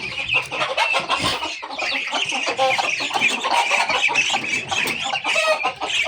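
Several chickens cluck and squawk continuously nearby, a busy overlapping chorus of short calls with no pauses.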